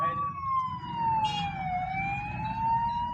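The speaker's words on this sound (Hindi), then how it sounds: "इस साइड आने का एम्बुलेंस है अपने सायरन में आ रही है और सायरन बजाते हुए एम्बुलेंस को रास्ता तक नहीं है" An ambulance siren wails steadily on a busy road, its tone rising and falling slowly, loud and fairly close over a constant rumble of traffic.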